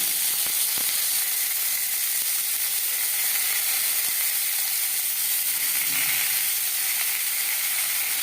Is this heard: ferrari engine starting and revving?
no